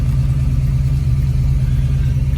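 A 1970 Boss 302 Mustang V8, restored, runs with a steady deep low rumble close by, loud and continuous with no talk over it.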